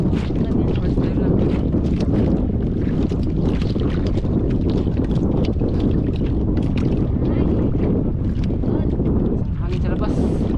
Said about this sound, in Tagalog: Hangin sa labas.